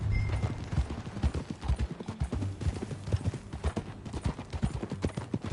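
Steady clip-clop of horse hooves trotting at an even rhythm in the video game Red Dead Redemption 2, close and clear, with a faint whinny early on.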